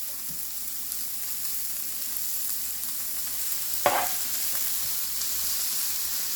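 Hash browns and peppers frying in oil on a propane-fired cooktop, giving a steady soft sizzle throughout with a brief scrape or stir partway through.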